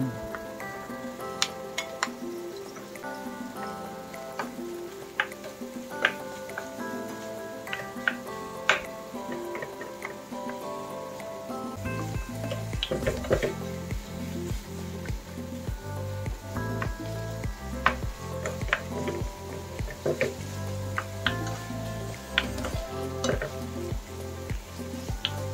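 Ground pork fries in a pan for a lasagna, a steady sizzle with scraping stirs and clinks of a utensil that grows louder and denser about halfway through.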